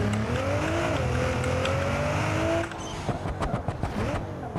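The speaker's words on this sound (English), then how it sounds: "To be honest, it pretty much sounds like a GTR." A tuned, raw-sounding car engine in the BeamNG Drive video game, likened to a GTR, drones loudly with rising pitch and then breaks into choppy revving and crackling bursts.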